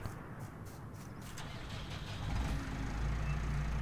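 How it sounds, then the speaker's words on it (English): Tractor engine in Farming Simulator 19 on a logging farm, a low droning motor that builds and grows louder partway through, then holds a steady rumble, with no speech over it. "Just want to get my tractor out."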